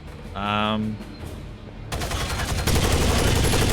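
Light machine gun fire in a video game: a sustained, loud burst of rapid automatic shots takes over the second half, after a short musical or electronic tone, and continues to the end.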